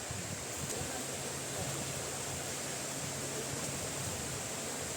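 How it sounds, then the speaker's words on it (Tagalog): A river stream flowing outdoors, a dense, continuous broadband rush of moving water, steady and fairly loud throughout with no clear breaks. "Narinig nyo na ba yung ilog?"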